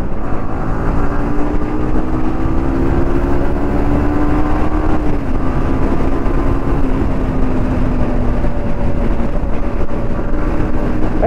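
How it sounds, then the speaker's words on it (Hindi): Yamaha MT-15 V2 BS6 motorcycle engine revving at high rpm while riding on a road, a loud steady drone with rising and falling pitch under heavy wind rush, no talk. "एमटी का ना इंजन साउंड भी मस्त है यार"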